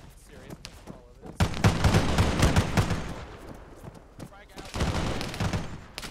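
Gunfire in the video game Halo comes in dense automatic bursts and volleys, loud and close, with talk from players mixed in.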